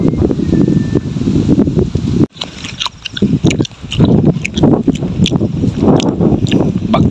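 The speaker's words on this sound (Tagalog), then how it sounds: "Mahangin, oh." Gusty wind sweeps across an open rice field, buffeting the microphone in loud, rough bursts with rustling, briefly dropping out before the rushing resumes.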